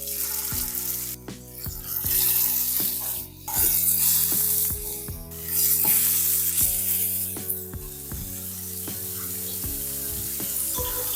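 Tandoori kalmi kabab pieces fry in hot oil with a bright, steady sizzle, broken by irregular knocks and scrapes of a utensil against the pan.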